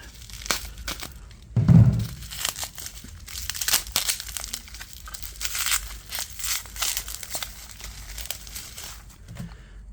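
Plastic and paper packaging on a Gillette razor is torn and crinkled open close by, a busy run of crackling, rustling and a few heavier thumps with no talking.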